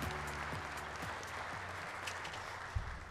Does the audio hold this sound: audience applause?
yes